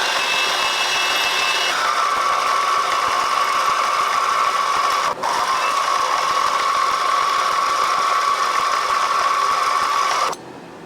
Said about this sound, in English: flip that round now and drill these two holes for these two pins